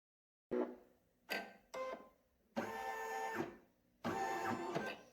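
Embroidery machine running a triple stitch on a cow-shaped baby comforter, heard as five mechanical bursts of whirring, clattering stitching separated by short pauses, close and fairly loud.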